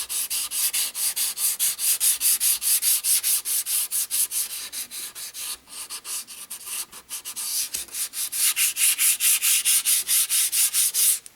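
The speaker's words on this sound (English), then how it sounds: "I'm able to sand the sanding filler down" Sanding filler by hand with 400 grit sandpaper gives quick, rhythmic rasping strokes, close and steady in back-and-forth bursts with a short pause midway.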